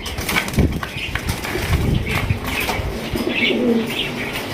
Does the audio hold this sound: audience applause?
no